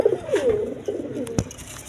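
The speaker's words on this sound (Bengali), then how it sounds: "এডাল কবুতর, নর কবুতর দুটোটাই দেখেন" Pigeons, a male and female pair offered for sale, coo in several soft, low, rolling calls close by, with no talk and a brief sharp click partway through.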